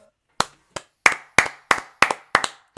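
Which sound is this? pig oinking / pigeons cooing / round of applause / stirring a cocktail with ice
round of applause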